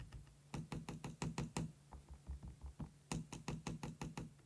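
Quick fingertip taps and clicks on the body of an MSI Stealth 16 gaming laptop, producing hollow, rattling knocks in fast clusters with a short pause between groups, close and quiet.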